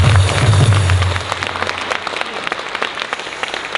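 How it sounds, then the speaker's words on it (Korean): A large crowd at a Korean March 1st Independence Movement Day rally applauds loudly, a dense, steady roar of clapping that carries on for several seconds and eases slightly toward the end. "박수 한번 하겠습니다."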